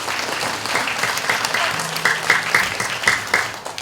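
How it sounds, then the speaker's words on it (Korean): Audience applause fills a hall at the elementary-school finals of a youth unification debate contest, steady clapping with a few sharper claps standing out and a brief low tone beneath. "다시 한번 박수 한번 좀 부탁드리겠습니다."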